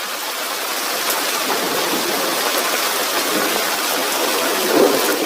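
Heavy rain pours down in a steady, loud, even hiss, a dense wash of falling water with a brief swell near the end and no voices over it.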